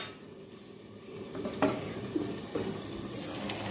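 Tamarind rice (pulihora) being mixed in a hot pan, with a steady soft sizzle, a few distinct metallic knocks and scrapes of the spoon against the pan, and a continuous low stirring rustle.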